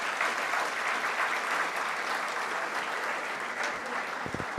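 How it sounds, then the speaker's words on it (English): Audience at a law college valedictory programme gives sustained, dense applause for competition participants, even and loud throughout, ending with a few sharper claps. "Kindly give a big round of applause to yourself."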